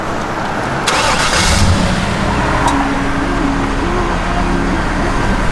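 A stock 1996 Pontiac Formula with a factory 5.7-liter port-injected V8 and six-speed manual cranks briefly and fires up about a second in, then settles into a loud, steady, rumbling idle close by.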